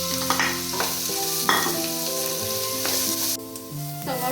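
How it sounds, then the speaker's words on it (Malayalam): Two sliced onions wilt in a hot pan as the first step of a Kerala beef roast, a continuous soft sizzle running beneath prominent background music. "2 സവാള സ്ലൈസായിട്ട് എടുത്തത് വാട്ടണം."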